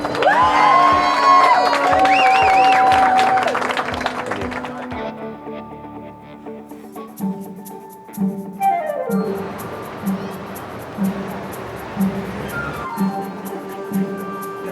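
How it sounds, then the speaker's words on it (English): A crowd at a National Food Day celebration cheers and whoops for Chef Alun, loud and busy at first and then thinning into scattered noise and voices. "Let's have a huge round of applause for Chef Alun."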